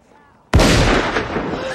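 A blunderbuss fires a single loud, close boom that rings out into a long rumbling decay after a brief quiet moment.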